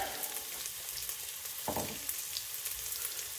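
Chopped onion sizzles steadily in hot beef dripping for haggis-spiced lamb mince, a close, continuous crackle with a brief stir or clatter partway through.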